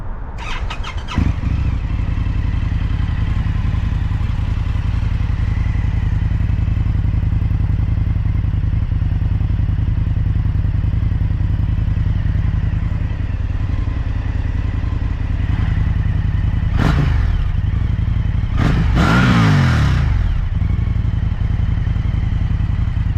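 Indian FTR 1200 motorcycle ridden on an overcast day, its engine droning steadily and loudly throughout with harmonic hum, a couple of sharp rising revs or squeals near the end, no talking.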